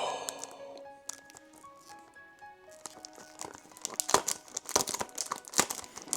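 A YSL Y fragrance box being unboxed, with packaging crinkling and tearing in close, irregular bursts that grow louder and busier toward the end, over faint background tones and no talk.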